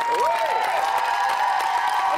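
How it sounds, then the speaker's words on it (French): Studio audience at an evening game show warmly applauding the two contestants: a steady wash of clapping and crowd noise under a sustained musical tone, with a host's voice sliding through it. "j'aimerais qu'on applaudisse chaleureusement les deux concurrents de la soirée"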